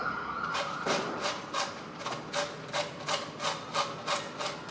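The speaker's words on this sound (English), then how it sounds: "go ahead and grate it the way you would a block of cheese" A vegetable is grated by hand on a simple box grater, producing rhythmic rasping strokes, about two per second, close and fairly quiet with no talking.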